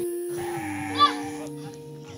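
Sheep bleating while being fed at a campsite near a waterfall, one or two close, wavering bleats over a steady tonal background.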